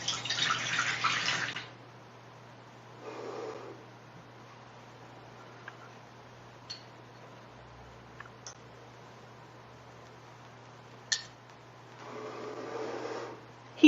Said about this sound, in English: In thanks, I pour the libation.